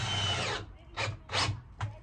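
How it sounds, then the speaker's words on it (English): A power drill drives screws into wood while a campervan bed is built, with one sustained whir followed by three short bursts of the motor, close and moderately loud. "I'm just putting a couple of screws in just to make sure it all fits together properly"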